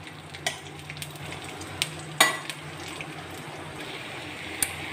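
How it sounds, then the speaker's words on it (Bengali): Kharkol greens fry in a little oil with green chillies and garlic, giving a steady close sizzle broken by a few sharp clicks and scrapes as the leaves are stirred. "শাকটা আমি দিয়ে দিচ্ছি। এবার আমি শাকটা নাড়াচাড়া করে তার জলটাকে শুকিয়ে নেব।"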